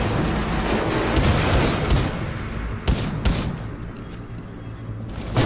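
Gunfire in the video game Titanfall 2: repeated sharp shots and bursts, some clustered and a few standing out as louder cracks, over a constant layer of battle noise.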